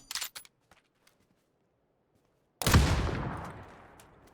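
Gunfire in PUBG: a few quick close shots at the start, a pause, then one loud booming blast that rings out and decays slowly.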